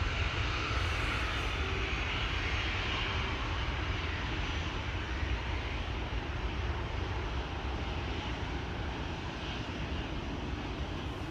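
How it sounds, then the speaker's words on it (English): A KLM airliner departing Amsterdam Schiphol Airport, its jet engines giving a steady, broad roar that holds at constant loudness throughout, fairly distant and with no one talking. "This is KLM flight 1629 to Venice."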